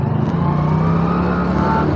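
A motorcycle engine runs in first gear after the clutch is engaged, a loud steady droning hum with a slight rise in pitch, heard close up with no talking.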